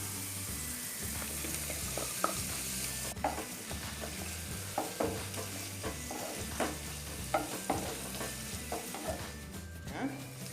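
Sliced onion and potato fry together in a pan for a Spanish omelette, a soft sizzle beneath repeated scraping stirs of a spoon against the pan at an uneven rhythm, fairly quiet and close.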